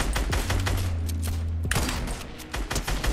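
Rapid bursts of assault rifle fire in Fortnite, several quick volleys of shots close and loud with brief gaps between them.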